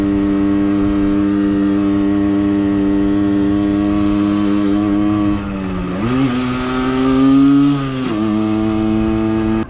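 A Suzuki SMX 50 moped engine labours up a hill, giving a loud, close, buzzing drone with strong harmonics that dips and rises in pitch as the load changes, with no one talking.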